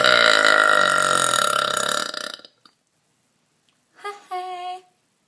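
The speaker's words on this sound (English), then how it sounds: "My burps suck lately." A long, loud, rumbling burp drags on for over two seconds, then after a pause a shorter, tonal second burp follows.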